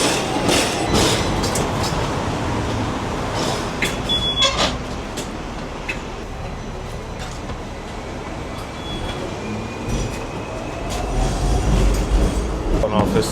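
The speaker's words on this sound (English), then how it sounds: "I'm going to go get the tram." Hong Kong tram rolling along its rails, a continuous loud rumble with rattling and faint clicks plus a few metallic squeals, swelling again toward the end, heard from on board.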